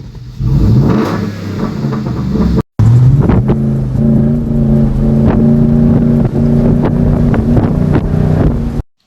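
A lowered Ford F-150 with a 5.0 V8 and a custom-welded exhaust rumbles loudly up close, idling before a brief cut, then revving in deep throaty pulls with some wind buffeting the microphone.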